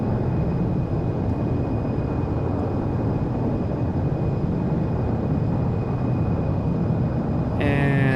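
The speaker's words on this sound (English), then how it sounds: "And 60 knots. Reverse is out. Let the auto brake work." Engines of an Embraer E190 in a flight-simulator game roar steadily under reverse thrust during the landing rollout, a loud continuous rumble that stays constant, with a brief higher tone entering at the very end.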